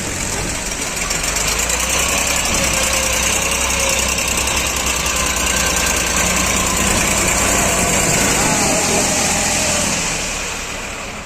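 Mahindra tractor stuck in mud, its engine roaring loud and steady under heavy strain throughout, a continuous close drone that eases slightly near the end.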